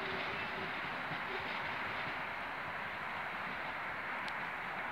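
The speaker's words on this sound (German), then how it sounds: "So eine lange S-Bahn." Long S-Bahn train at Riem station in Munich passes as a steady, moderately distant rumble and rolling wheel noise, heard alone without talk.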